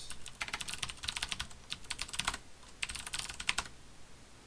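Fast bursts of keystrokes on a computer keyboard as a password is entered on a Linux system, clustered in quick runs with short pauses, close and clear with no talking.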